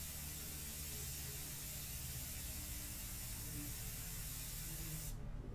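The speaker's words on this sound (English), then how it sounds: "I make sure that I very slowly apply the airbrush, apply the light mixture" Steady hiss of an airbrush spraying a light India ink mixture, constant and even for several seconds before cutting off abruptly near the end, close up with a low background hum and no talking.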